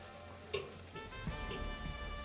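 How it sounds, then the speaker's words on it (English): Sausages searing over an open fire, a faint steady sizzle with a soft pop or two and light crackling, quiet and even throughout. "I want to just kind of lay these over the fire. Just put a little sear on them."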